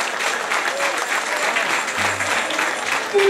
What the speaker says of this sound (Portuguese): Acho que ele merece uma salva de palmas.